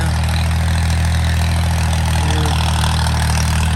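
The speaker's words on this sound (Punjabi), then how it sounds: "ਅੱਜ ਲੈ ਕੇ ਆਏ ਜੀ ਅਮਰੂਦਾਂ ਦਾ ਬਾਗ, ਅੰਬਾਂ ਦਾ ਬਾਗ ਵਿੱਚ ਰੂਟਾ ਮਾਰ ਰਹੇ ਆ" A New Holland Alghazi 65 hp tractor runs a rotavator in a guava and mango orchard, its engine a loud, steady, close low drone with an even throb and no speech.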